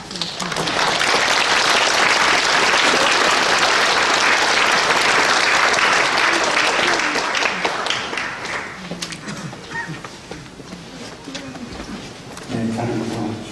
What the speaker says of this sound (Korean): 박수로 축하드립니다